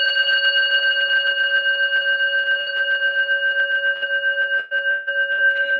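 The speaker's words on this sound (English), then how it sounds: "we're going to go ahead and do a little bell before we do song" A small bell is struck once before a song and rings out as a clear, steady tone that sustains for several seconds with only a slight dip near the end. It is alone with no talking.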